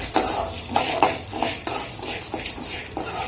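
Chana dal dry roasting in a pan for idli powder gives a dry, rhythmic rattle and scrape as a spoon pushes the lentils around, close and fairly loud with no voices.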